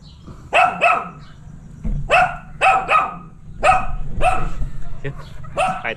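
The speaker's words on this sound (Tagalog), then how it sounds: "Ang ganda ng aso ni Tatay Bo" A dog barks repeatedly in short clustered bursts, close and loud, with a low rumbling background underneath.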